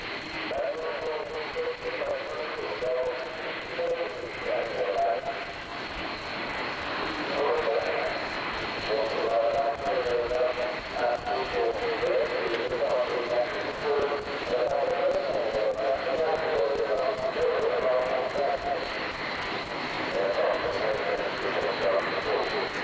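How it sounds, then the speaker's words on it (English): A propeller aeroplane flies an aerobatic display at the Farnborough airshow, its engine droning steadily and rising and falling in pitch as it maneuvers for over twenty seconds. "Captain Bill Wainwright giving an almost balletic display as he shows off this beautiful aeroplane"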